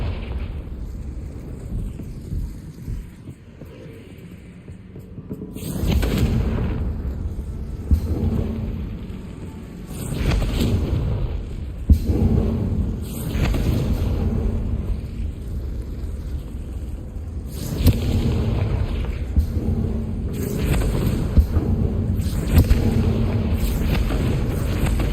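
Booming Confringo blasting-spell explosions in the Hogwarts Legacy video game, coming in repeated heavy bursts after a quiet opening, with rumbling crackle between the blasts.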